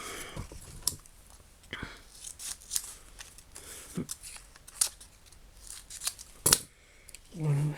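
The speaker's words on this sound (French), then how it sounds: "Donc là, on va couper ici et ici." Scissors cutting through magazine paper for a collage, sharp close snips scattered across the clip with soft quiet handling noises between them and a voice heard briefly near the end.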